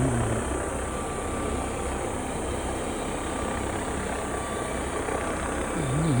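A helicopter flies overhead during a Grand Canyon rim-to-rim hike, its steady engine and rotor roar a continuous broadband drone with no speech.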